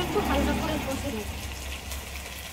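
Mutton and fried potatoes sizzle in a pan, a steady hissing fry that is strongest at first and fades slightly, with a person talking over it.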